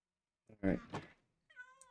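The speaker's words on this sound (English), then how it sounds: "Finally got a cat." A cute little cat meows in a mining-and-crafting video game, a short cry followed by a thin, rising tonal mew after a brief pause; close and fairly soft, with no talk over it.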